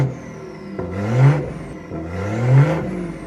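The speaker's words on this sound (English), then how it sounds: "Let's give it a few revs now." A BMW B58 engine fitted with an oversized aftermarket downpipe and stock turbo revs twice, each blip rising in pitch to a loud, raspy peak and falling back, close by with no talking.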